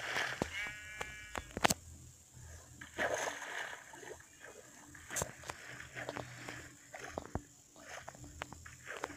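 Sheep bleating in a German-played video game, several short wavering bleats early on amid splashing water, footstep-like clicks and scattered sharp knocks, fairly quiet overall.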